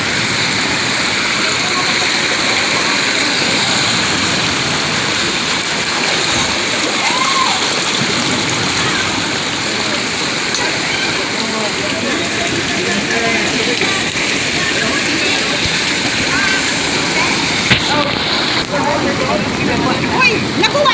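Very high floodwater during Typhoon Opong, a loud, constant rushing and splashing wash of water that never lets up.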